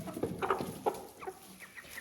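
Chickens in a coop give soft, scattered clucks, a few short calls at moderate distance over quiet background.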